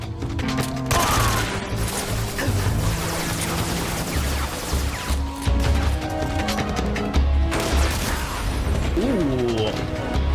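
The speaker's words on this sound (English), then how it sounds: "We stood next to an exploding barrel" In the video game Metal Gear Solid 3, an exploding barrel goes off amid bursts of gunfire and loud crashes, with voices talking over the dense, busy combat noise.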